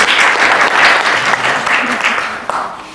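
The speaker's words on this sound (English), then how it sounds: "We applaud before it starts." Audience applause fills a hall during a talk on theatre and opera, a loud, dense wash of clapping from many hands that swells and holds steady for a few seconds before easing slightly.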